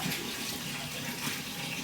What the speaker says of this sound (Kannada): ಇದಕ್ಕೆ ಅಳತೆ ನೀರನ್ನು ಹಾಕಬೇಕು.